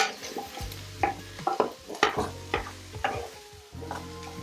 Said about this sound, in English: the onions, celery and carrots. Give that a stir.